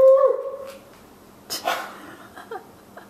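A dog on morphine gives a high, thin whimper at the start, then faint snuffling and breathing with a few soft shuffles, close by in a quiet space.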